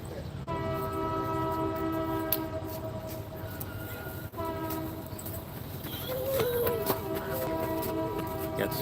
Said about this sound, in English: Got the train coming by out in the background.